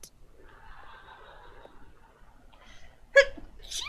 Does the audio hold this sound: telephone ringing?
no